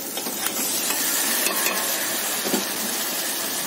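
Chopped tomatoes added to light-brown frying onions for a fish curry, a close, continuous sizzle with spoon scrapes and stirring clinks against the pan.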